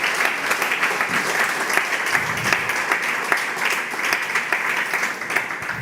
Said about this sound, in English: can we please have another round of big applause for all of the keynote speakers today?